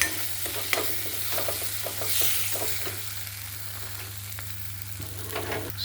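Kashmiri chili powder, garam masala and chicken masala being stirred in a pan for an egg and brinjal curry, with a spoon scraping and clinking in irregular strokes over a steady low background hum, close and moderately loud.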